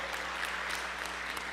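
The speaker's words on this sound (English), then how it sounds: "Go ahead and give the Lord an applause for that." Steady crowd applause from a church congregation during a sermon service, a short continuous burst of clapping with no talking over it.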